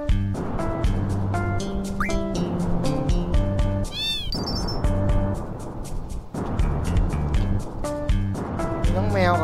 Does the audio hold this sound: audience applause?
no